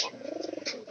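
Pigeons kept inside a house, a single soft, low cooing call, brief and close.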